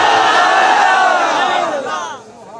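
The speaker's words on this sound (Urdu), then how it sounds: "بچہ آج لبیک یا رسول اللہ کے نعرے لگا رہے ہو" A large crowd chants Labbaik ya Rasool Allah slogans in unison at a religious gathering in Sharaqpur Sharif, loud and massed, with the voices trailing off toward the end.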